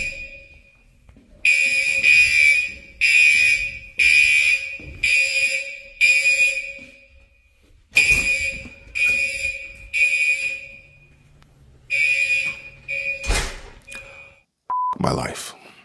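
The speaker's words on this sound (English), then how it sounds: "The fire alarm went off at 5:22 a.m." A fire alarm sounds repeatedly, each round a group of three loud, piercing high beeps separated by short pauses, with a few clicks and knocks near the end.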